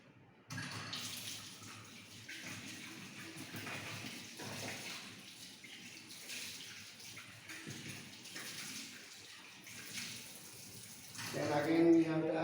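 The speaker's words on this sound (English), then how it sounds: "Conical flask, we can wash conical flask neatly." Running water splashes steadily while a conical flask is rinsed in a lab sink, a continuous close gush that shifts slightly in tone as the glassware moves under the stream.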